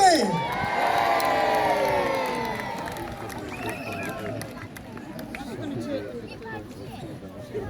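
A crowd cheers and whoops at the outdoor mini boat battle show in Scarborough, a loud burst at the start that fades into scattered shouts and chatter.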